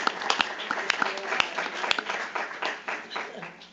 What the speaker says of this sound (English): can we applaud what just happened?